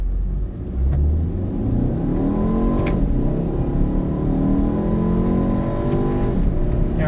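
A 2015 VW Jetta SE 1.8T turbo four-cylinder accelerating hard, its engine note climbing steadily through the gears in a loud, continuous close-up drone, with a brief gear-shift dip near the start and no talking.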